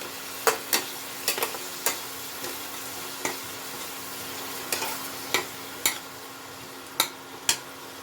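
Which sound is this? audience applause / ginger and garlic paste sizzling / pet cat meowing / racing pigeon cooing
ginger and garlic paste sizzling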